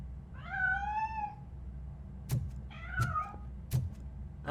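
A cat in RoboCop: Rogue City gives a drawn-out wavering meow, then after a pause a shorter second meow, punctuated by sharp clicking game sounds, fairly clear and alone.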